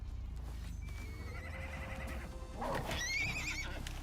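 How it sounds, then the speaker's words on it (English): A horse in the Icarus survival game neighs and whinnies loudly, a drawn-out call with a sharper burst near the end, its hooves clopping beneath over a steady game background. "Why are you attacking my horsey?"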